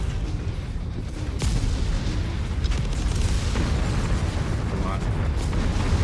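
Artillery shells bursting around a walking mech in MechWarrior, a continuous rumble of heavy, muffled booms with a few sharper blasts, steady and loud, with a player talking over it.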